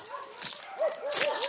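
A dog yips and whimpers in a run of short, high barks at moderate distance, with faint chatter and outdoor noise around it.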